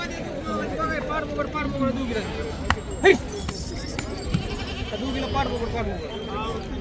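Osmanabadi goats bleat repeatedly amid a busy crowd of chattering people at a weekly goat market in Kalamb, Dharashiv, with a couple of sharp knocks partway through.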